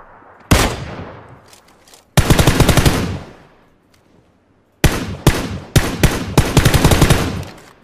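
Automatic gunfire in the battle royale video game PUBG, loud bursts of rapid shots starting after a half-second pause, then a gap and several more sharp bursts and single shots close up.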